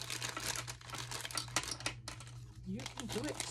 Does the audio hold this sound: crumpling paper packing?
yes